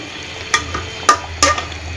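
Vegetables stir-fry in a pan as hilsa fish is being cooked, with a soft steady sizzle and three sharp stirring scrapes and clatters spaced across two seconds.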